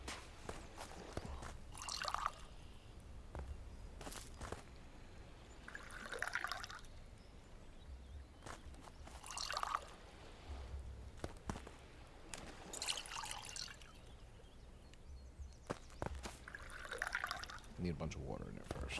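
Water pours in repeated short splashes into a soaking basin in the survival game Last Plague: Blight, each fill a brief trickle every few seconds, faint and low under a quiet ambient hum.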